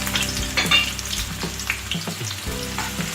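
Onions frying in about a cup of oil until brown, a loud close sizzle with repeated stirring clatters and scrapes of a spoon against the pan, no talking.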